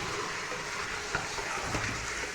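Mutton pieces and potatoes fry in a pot, with a soft continuous sizzle and a few light stirring knocks and scrapes at moderate distance, with no talking.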